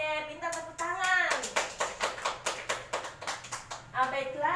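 Children in a classroom clap their hands in a rhythmic, evenly spaced pattern of about a dozen sharp claps, with voices speaking before and after.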